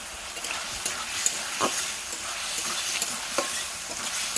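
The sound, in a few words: potatoes frying and being stirred with spice paste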